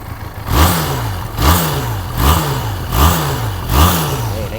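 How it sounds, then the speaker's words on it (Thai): A 2017 Benelli TRK502 adventure motorcycle on its stock exhaust is revved repeatedly, five even throttle blips rising and falling in a steady rhythm, loud and close with no talk. "เดี๋ยวมาฟังเสียงท่อเดิมกันเลยครับ"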